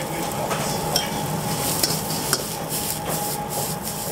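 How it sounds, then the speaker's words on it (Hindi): Vegetables and boiled noodles being stir-fried over a high flame, with a steady loud sizzle and repeated scraping and tossing of the spatula against the pan, continuous with a few sharper clinks. "सारी सब्जियों को हाई फ्लेम पर आपको रोस्ट करना है, भूनना है। फिर आप इसमें ऐड करेंगे बॉइल्ड नूडल।"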